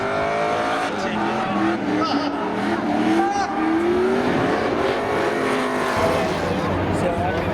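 An electric drag race car launches down the strip at Seekonk Speedway's spectator drags, a loud whining rush with tire noise that stays strong throughout, while people talk over it.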